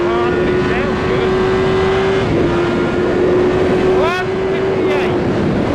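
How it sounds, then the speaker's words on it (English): A 2002 Suzuki GSX-R 750 K2 motorcycle races around a track, its engine holding a steady high-pitched howl that dips briefly as it shifts. Heavy wind rush sits under the engine, and a rider talks over it. "Rev it a little bit harder and it sounds good."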